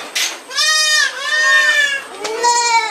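Anglo Nubian goats bleat loudly on a goat farm, several overlapping nasal, wavering calls close by filling the whole stretch.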